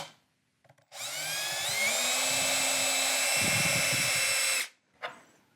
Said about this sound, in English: use this as a drill guide to drill all the way through to the other side of the